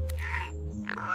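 A cartoon frog croaks in a steady, buzzy tone with a second, higher croak near the end, fairly quiet and alone.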